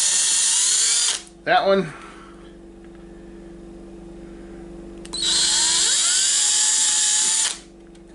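A power drill bores through a hockey mask in two loud whining bursts separated by a quieter gap, with a brief clatter and someone speaking a few words between them.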